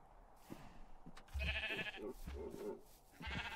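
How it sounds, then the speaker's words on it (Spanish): Sheep bleat in a video game, with a few loud, drawn-out calls coming one after another over faint background noise. "Están spawneando putas ovejas, vacas y ciervos, tío."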